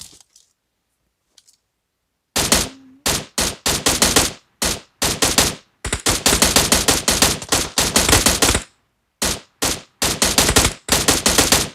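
Heavy automatic gunfire in PUBG, loud close bursts of rapid shots in long repeated volleys separated by short pauses, following a quiet start.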